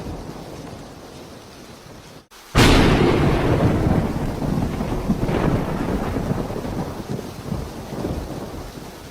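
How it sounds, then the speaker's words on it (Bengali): Heavy monsoon rain with thunder in an animated comedy scene: quiet rain at first, then a sudden loud thunderclap that breaks into a long rumbling roar over a continuous downpour, with no voices. "এটা কিন্তু বর্ষাকালের বৃষ্টি, ভিজলে কিন্তু ঠান্ডা লেগে যাবে"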